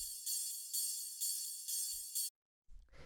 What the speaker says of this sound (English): ride cymbal like you hear in a lot of techno